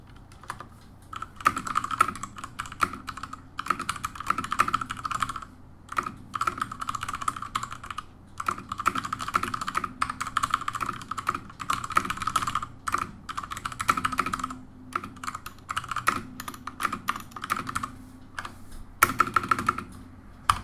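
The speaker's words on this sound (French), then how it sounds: "Et maintenant un typing test." Rapid, continuous clacking of keys on a mechanical keyboard, fast uneven typing with brief pauses, close and clear with no talking.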